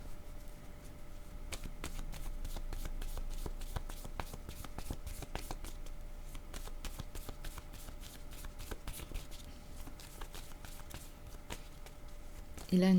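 Tarot cards shuffled and handled close by, giving a run of quick riffling flutters and soft card snaps with a brief louder handling noise at the end.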